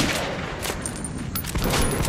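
Rapid, dense shotgun gunfire in the Metro 2033 Redux video game, several loud blasts close together in a sustained burst of combat noise with no talking.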